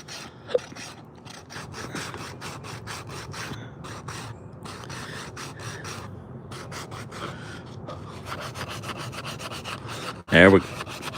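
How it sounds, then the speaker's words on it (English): Rhythmic scratchy strokes of sandpaper or a sanding block rubbing against a carved wooden spoon, repeated back and forth up close, ending with a brief sharp clatter. "edge of the sandpaper or sanding block."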